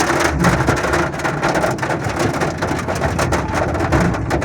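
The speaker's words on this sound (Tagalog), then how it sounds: "Ayan na, lumalakas na yung ulan." Heavy rain pours during a thunderstorm, a dense, constant hiss of water drumming on a surface around a small electric car on a wet road, loud and without talk.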